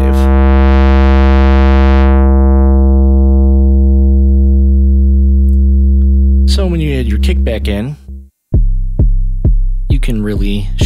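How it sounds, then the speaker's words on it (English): A Blue Lantern Modules kick drum synth module's sustained tone starts as a smooth, pure sine, brightens through a triangle with fading upper harmonics, then morphs into a buzzy, pulsing pulse wave with rhythmic stuttering. "So start at sine wave, triangle wave, and then it morphs into a pulse wave."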